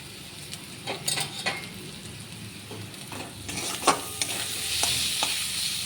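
Spices are sautéed in a pan, with a soft, steady sizzle under repeated scraping and clinking strokes of a spoon stirring the mixture, close and fairly quiet.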